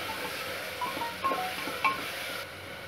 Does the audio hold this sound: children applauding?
no